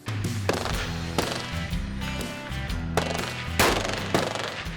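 Rapid, loud rifle shots from M1 Garands firing at a CMP match, sharp reports overlapping in irregular bursts with a dense crackle of gunfire echoing across the range, no talking.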